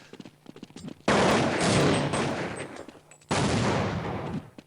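Gunfire in a Counter-Strike esports match at a DreamHack Winter 2011 quarterfinal, with a few light clicks followed by two loud, sustained bursts of shots and rolling echo, the second burst beginning after a brief drop.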